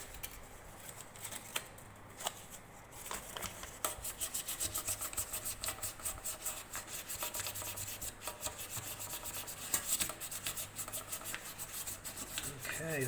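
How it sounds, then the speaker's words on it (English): Sanding a cake tin canjo by hand with 1000 grit sandpaper makes quiet, repeated rubbing strokes. The scratchy passes come in an uneven rhythm and grow busier partway through. "So we'll just finish off with the 1000 grit."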